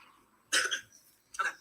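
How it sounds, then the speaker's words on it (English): Two coughs ring out close by, a harsh longer burst followed about a second later by a shorter one, with quiet between them. "That cough, man."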